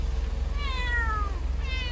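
A cat gives a drawn-out meow and then the start of a second one, close by, over a steady low rumble in the background.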